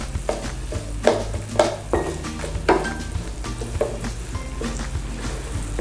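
Garlic and onions sizzle in a pan as a spoon stirs them, steady frying hiss broken by repeated scraping and clinking strokes, close and moderately loud without talk.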